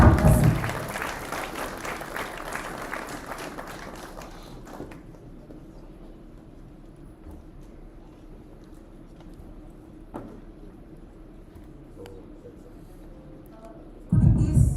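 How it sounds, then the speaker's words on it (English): An audience at a technology conference keynote applauds as a guest comes onto the stage. The clapping is moderate and lasts about five seconds, followed by a long stretch of quiet hall ambience and then a sudden loud burst near the end. "Everybody, let's give a round of applause."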